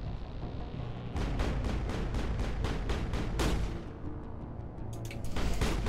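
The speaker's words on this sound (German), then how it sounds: "Warum überhitzen die Knarren alle auf einmal so mit einem Schuss?" Rapid gunfire in the video game Mass Effect, loud repeated shots in a fast burst, then a pause and another volley, over a dense rumbling backdrop.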